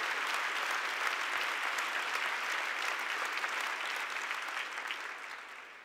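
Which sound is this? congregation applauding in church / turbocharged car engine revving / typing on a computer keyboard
congregation applauding in church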